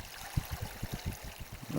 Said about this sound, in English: sitting on the western edge of Loch Fruchie, staring out into the waves